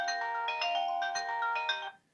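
A phone ringtone set off from the find-phone key on a Kospet Tank M4 smartwatch plays a loud, bright, steady melodic tone close by for about two seconds, then cuts off.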